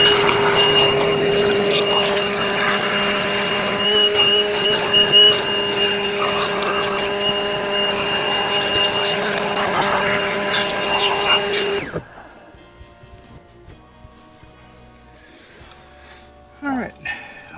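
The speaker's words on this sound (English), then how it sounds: "I'm gonna go get my vacuum and try to suck some of that out of there." A vacuum cleaner draws loose debris and bits of old valve cover gasket out of the engine bay of a 1964 Ford Galaxie that sat for 30 years, a loud steady whine with suction changes that cuts off abruptly, leaving a quiet garage.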